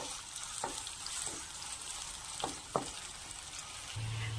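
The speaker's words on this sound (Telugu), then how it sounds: "ఆయిల్ వేసుకోవాలి జీలకర్ర ఆవాలు అలానే పచ్చిమిర్చి ముందుగా కట్ చేసుకున్న ఆనియన్ వీటన్నిటిని బాగా వేయించుకోవాలి" Cumin, mustard seeds, green chillies and chopped onion frying in hot oil in a pan, a continuous close sizzle with a few short scrapes of stirring.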